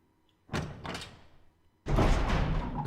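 A heavy door in the Resident Evil video game opening, a loud creaking thud followed by a second, deeper sustained rumble as it swings, close and resonant.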